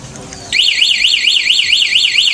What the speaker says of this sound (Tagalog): installation one way alarm, locator